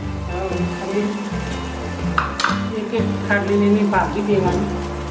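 Wheat flour sev dropped and stirred into khichdi cooking in a pot, a steady close sizzle with soft scraping stir sounds and a few brief louder clinks, under background music-like tones.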